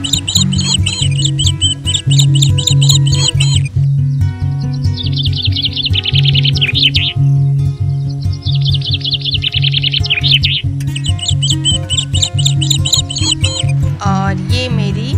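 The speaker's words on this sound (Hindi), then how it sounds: "बहुत सारी चिड़िया बर्ड्स थे और तरह तरह के, तो सबकी आवाज़ें बहुत ही अच्छी लग रही थी" Many different kinds of birds calling outdoors, with dense high chirps and trilling phrases running continuously over a steady low hum, loud and close throughout.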